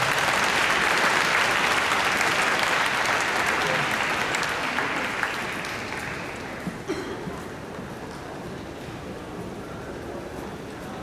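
A large audience claps warmly at a Korean world mission conference, a loud, dense burst of applause that holds strong and then gradually thins and softens toward the end.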